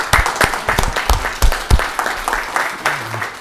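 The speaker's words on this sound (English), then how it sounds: "I'd like to give her a round of applause" At a Livingston council meeting, attendees give loud, close applause made of distinct, uneven claps with strong individual hits that keep going before easing off.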